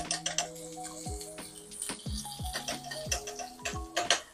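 Garlic and ginger are rinsed under a running kitchen tap, with splashing water, small clinks and ticking knocks in an irregular patter heard up close.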